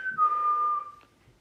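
A person whistles a single sustained, fairly steady note for about a second at night, close and clear, then it fades into quiet with a faint click afterward.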